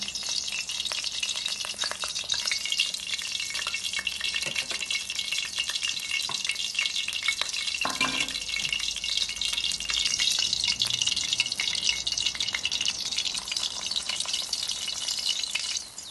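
Paratha cooking on a pan gives a steady, close frying sizzle for the whole stretch, with light scraping and stirring sounds and a brief knock near the middle; no voices.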